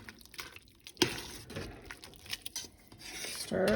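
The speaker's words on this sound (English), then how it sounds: "Stir gently, but you do need to stir and keep them moving till that dough cooks." Homemade noodles stirred in boiling broth, with a spoon scraping and rasping against the pot, liquid sloshing and a sharp clank near the start, close and irregular with no talk.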